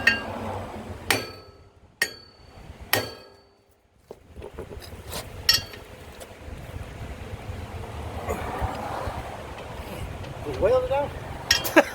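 A hammer gives three sharp, ringing metallic taps to pop the axle seal on a 2000 Z920m mower, followed by quieter clinks, shuffling and shop background noise.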